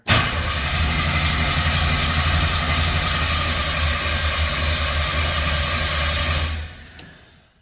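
An Ultimate 800 rock crawler's engine cranking over on its first start after a long build, a loud, steady mechanical churning for about six seconds before cutting off, with no voices.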